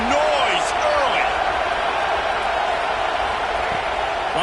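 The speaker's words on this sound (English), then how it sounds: "This crowd bringing the energy and noise early." Stadium crowd roar in a college football video game, Miami versus NC State, a loud steady wash of crowd noise with a few faint whistles and calls, with commentary talking over it.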